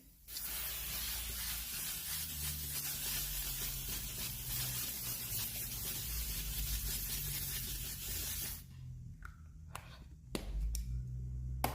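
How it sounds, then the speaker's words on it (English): L'Oreal Infallible 3-second setting mist sprays onto a face in a long continuous hiss, followed by a few short sharp bursts near the end, close and fairly quiet. "I'm going to set it in with my L'Oreal Infallible 3-second setting mist."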